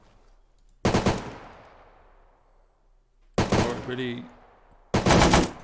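Automatic weapon fire in the video game Arma 3, three loud close bursts with a rolling echo after the first, and a brief voice between bursts.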